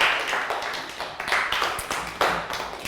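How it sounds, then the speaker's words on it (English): A small group of pupils claps in a classroom for a classmate, a short burst of quick, uneven claps with a few sharper taps standing out. "Round of applause for Bangpon"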